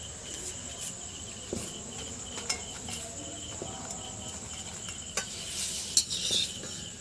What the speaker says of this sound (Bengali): একদম হুম আলু ভাজা শুনতে পাচ্ছেন